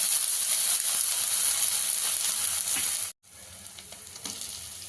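Ginger garlic paste with half a spoon of turmeric fries in a pan on a medium stove, a steady hissing sizzle with a few soft stirring taps, cut off by a brief silent gap before resuming quieter.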